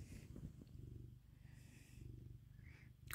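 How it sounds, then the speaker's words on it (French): A pet cat purring close by, a soft, steady rhythmic rumble going on throughout at low volume with faint background noise. "Pourtant, tu ronronnes avec moi."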